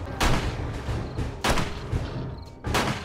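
Pistol shots ring out in the zombie survival game 7 Days to Die, three sharp loud cracks spaced about a second apart, each with a short echoing tail.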